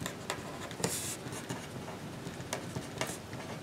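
Pen or marker strokes on a board during a math lecture on types of discontinuity, giving a steady scratchy writing sound with a few sharper taps, close and continuous, with no talking.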